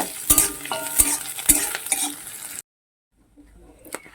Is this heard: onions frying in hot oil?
yes